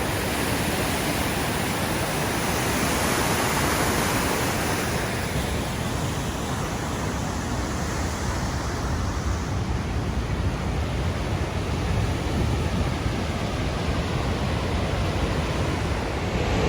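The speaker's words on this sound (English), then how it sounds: "That is a serious waterfall." A powerful waterfall in Iceland roars in a constant, broad rush of water, loud and unbroken for the whole stretch with no voices.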